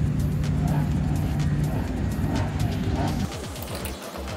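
A Nissan Fairlady Z fitted with a prototype L28 head idles loud and rumbling at a drag race, the engine note shifting and dropping near the end.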